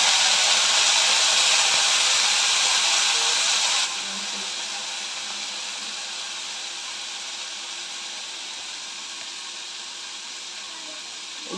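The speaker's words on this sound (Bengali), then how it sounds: "একটু জল দিয়ে দিলাম, নাহলে পোড়া লেগে যাবে।" Water splashed into a hot pot of cooking beef gives a broad steamy hiss that starts loud and then settles into a steadier, softer sizzle that carries on to the end.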